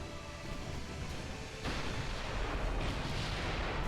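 Naval gunfire in the warship battle game Ultimate Admiral Dreadnoughts: a continuous heavy rumble of distant broadside fire and explosions that swells partway through, with no talk.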